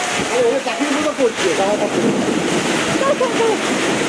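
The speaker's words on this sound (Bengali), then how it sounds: "অনেক বৃষ্টি হচ্ছে" Heavy rain pours steadily over a waterlogged street outside a house, a continuous broadband wash with soft splashing, while a person talks over it throughout.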